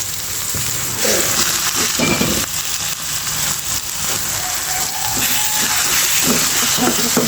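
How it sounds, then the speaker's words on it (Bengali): Red amaranth leaves frying in a pan and being stirred, a loud, dense, constant sizzle with occasional soft scraping of the stirring utensil throughout. "ভালোভাবে নেড়ে চেড়ে নেব।"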